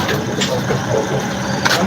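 A motorcycle engine runs up close with a steady rough drone and brief revving bursts, loud and continuous throughout.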